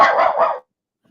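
A dog named Otis lets out a single loud, close bark that lasts about half a second, followed by silence.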